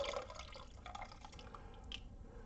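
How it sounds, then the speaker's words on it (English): Red madder dye liquid, made from madder root, pours steadily into a dye vat with a continuous watery splash and trickle, close and soft, with no talking. "So I'm just going to pour some of that into the dye vat"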